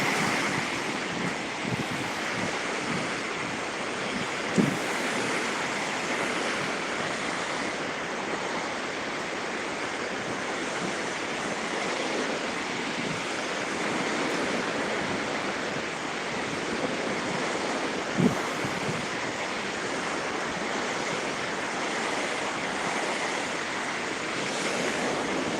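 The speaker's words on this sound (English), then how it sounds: "See the beautiful waves." Ocean waves at Cartagena, Colombia roar in a steady, loud wash of surf, heavy with wind noise on the microphone, continuous for the whole stretch with a couple of brief bumps.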